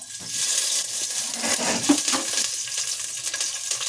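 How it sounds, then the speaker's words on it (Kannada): Green chillies fry in hot oil for a tomato rice tempering, giving a loud continuous crackling sizzle with one sharp metallic clink midway. "ಇವಾಗ ಹಸಿಮೆಣಸಿನ್ಕಾಯಿನ ಹಾಕೊಳ್ಳಿ."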